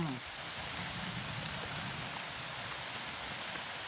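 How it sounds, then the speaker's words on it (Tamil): Heavy rain falls in a steady, close, hissing downpour that fills the scene with constant noise and no pause. "நல்ல மழை வருது தானே"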